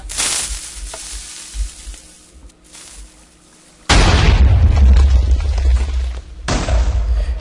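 Quieter clicks and a sizzling fuse give way to a loud, sudden explosion from a Minecraft TNT cannon, then a second blast follows; rumbling, crackling booms with no talking.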